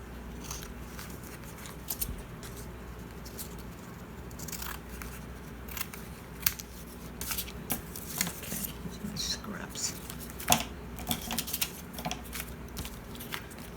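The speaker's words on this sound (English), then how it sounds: "Just cut right up against the edge of your card, your tag. Trimming off whatever's hanging over." Scissors trim the overhanging edges of a paper card tag in a series of short, crisp snips and clicks, close to the microphone over a quiet background.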